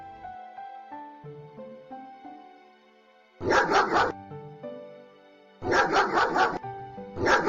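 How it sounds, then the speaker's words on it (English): A dog barks in two loud bursts of rapid repeated barks, close to the listener, alternating with a simple melodic tune playing between them. "D for dog."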